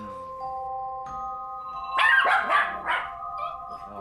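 A dog barks in front of a building during a training session, giving three or four sharp, close barks in a burst after a steady electronic tone, with no talk.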